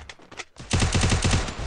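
Rapid bursts of gunfire in a Free Fire Clash Squad 4 vs 4 match, loud and close, a few sparse shots giving way to a dense rattling run of repeated shots that carries through to the end.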